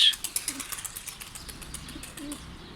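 Pigeons coo faintly while wings flap in quick fluttering bursts, strongest at first and then fading, outdoors and fairly close.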